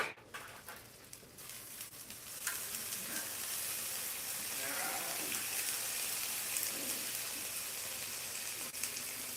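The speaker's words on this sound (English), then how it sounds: "I'll just give that a quick mix into the potatoes so it actually melts" Shrimp breakfast mix stirred into potatoes in a hot pan, giving a steady, close frying sizzle with occasional scraping stirs throughout, no talking.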